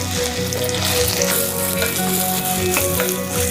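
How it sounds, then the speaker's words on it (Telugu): Dry red chillies and their seeds frying in a pan, a dense continuous sizzle with crackling pops and occasional stirring scrapes, close and loud with no talking. "ఇవి 1 కప్పు ఎండుమిర్చి. కొంచెం వేపుకుందామండి, నల్లగా కావద్దు."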